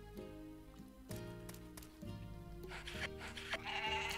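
Sheep in the farming game Story of Seasons: Pioneers of Olive Town bleating repeatedly in short wavering calls, fairly quiet, over a light musical background with other farm-animal sounds.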